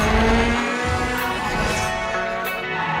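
Cars race in the video game Burnout Paradise: engines roar close up, with tire squeals and skids, in a short burst of gameplay sound.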